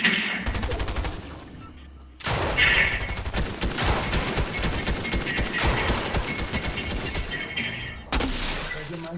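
Gunfire in Fortnite: rapid bursts of automatic shots, loud and close, with sharp breaking impacts and brief pauses between volleys.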